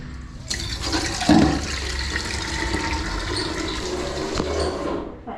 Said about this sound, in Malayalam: ശകലം വെള്ളം ഒഴിക്കാം.